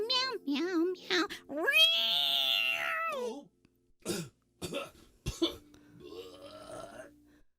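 A human voice imitates a cat, giving a run of about nine meows in quick succession. The cries are close, loud and uneven in pitch, with a few coughs or throat sounds mixed in and a brief gap near the middle.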